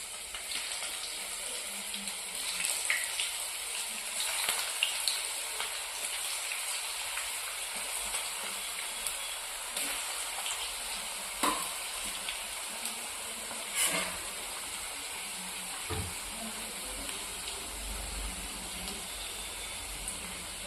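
Cabbage bajji batter balls sizzle in hot oil over a medium flame, a steady close crackle like light rain, with occasional soft plops and clinks as more are dropped in. No voices.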